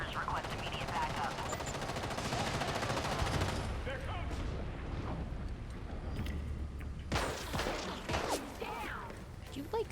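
Rapid gunfire in Gotham Knights, bursts of machine-gun and rifle shots, dense and loud at first, then thinning to scattered volleys, with a voice speaking over parts of it.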